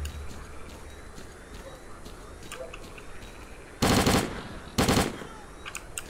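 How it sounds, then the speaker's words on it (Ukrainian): Gunfire in S.T.A.L.K.E.R. Clear Sky, firing a Viper gun: two loud, short bursts of shots in quick succession over a low, steady game ambience. "вони з пістолета ліпше стріляють, ніж я з цього, з гадюки."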